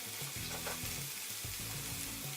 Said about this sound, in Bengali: পেঁয়াজ বাটা 2 চা চামচ, রসুন বাটা 1 চা চামচ, আদা বাটা 1 চা চামচ দিয়ে সবগুলো আবারও ভেজে নিব।